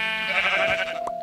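A sheep in the video game Minecraft gives one short, wavering bleat, clear and fairly soft, with no talk over it.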